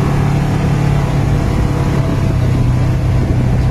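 Polaris RZR Trail S utility vehicle, a 2021 100-horsepower model, driving in two-wheel drive with a steady, fairly quiet engine drone and low rumble, continuous and close throughout with no talking.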